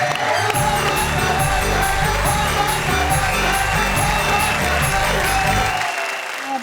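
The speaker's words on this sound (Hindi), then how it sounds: "तालियां," An audience at an Urdu poetry gathering claps loudly and continuously, a dense wash of applause with some cheering over music, dropping off near the end.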